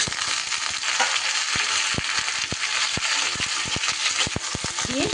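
Potatoes and winter vegetables with Malabar spinach frying loudly in a little oil, a steady close sizzle broken by frequent sharp clicks and knocks of the spatula as the mixture is turned.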